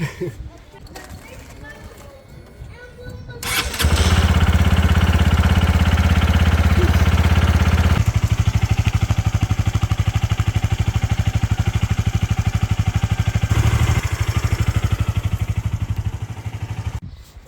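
A Honda PS150i scooter, reassembled after about two years sitting in a garage, cranks and catches, then settles into a loud, steady idle with a throbbing low hum that shifts slightly partway through, while people talk nearby.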